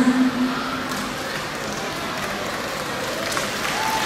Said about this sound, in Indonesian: Kita berikan tepuk tangan untuk mengantar sambutan dari Bapak Gubernur Nusa Tenggara Timur